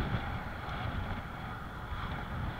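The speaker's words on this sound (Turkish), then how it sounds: "Dehşet bir rüzgar var, dehşet." Strong wind buffets the microphone during a road cycling race at the Istanbul Granfondo 2023, a steady loud rumbling roar with no letup and no talk over it.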